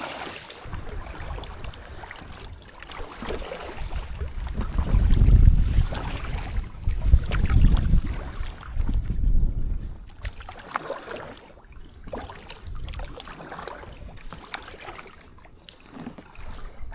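A packraft drifts fast down the flooded River Idle, carrying a low rumble of moving water and wind buffeting the microphone, with the sound swelling in the middle before settling back to a steady wash.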